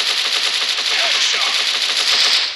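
Rapid SMG fire in the mobile shooter Cover Strike, a dense continuous burst of automatic gunshots lasting throughout, loud and up close with no talking.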